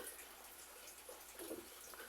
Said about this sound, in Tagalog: Ngayon, mag-add na ako ng tubig.